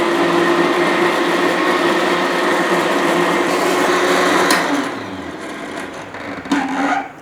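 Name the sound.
blender blending grape juice with ice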